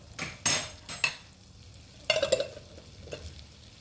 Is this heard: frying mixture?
yes